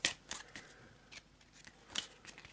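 Elder Sign game cards riffled in a shuffle, several crisp, close bursts of flicking card edges with short gaps between them.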